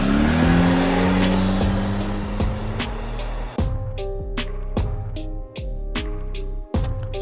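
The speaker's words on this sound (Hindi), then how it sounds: "फिर तीनों गाड़ी में बैठकर वहाँ से जाने लगते हैं।" A cartoon car revs and drives away, the engine whining up through rising tones, then a string of clipped, sharp mechanical sound effects, loud and close with no talk.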